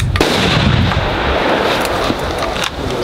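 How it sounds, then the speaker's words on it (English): Gunshots from a new AR-15 rifle with no iron sights or attachments, fired at night: loud, dense sharp reports in quick succession across the whole stretch, with no talking. "I guess I'll just shoot the rest of these 40 bullets"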